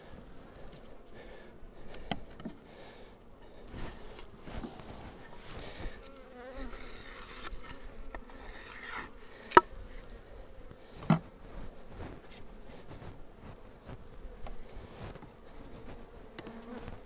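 Honeybees hum steadily at a long hive during an inspection, a soft, continuous swarm buzz close by with occasional knocks and clicks of hive handling.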